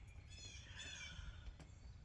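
Crows cawing outdoors on a quiet morning, a faint, distant harsh call or two over low background rumble.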